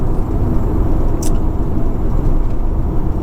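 Fiat Coupe 2.0 20v Turbo from 2000 with six-speed gearbox, its engine giving a loud, steady low rumble up close with a brief higher click partway through.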